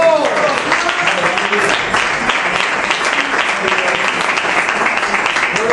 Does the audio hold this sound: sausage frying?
no